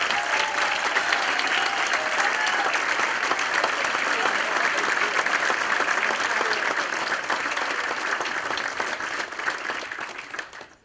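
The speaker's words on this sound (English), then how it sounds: "Just please give them a round of applause." A large audience at an annual meeting gives the staff a long, sustained round of applause, dense and even, that gradually thins and fades out toward the end.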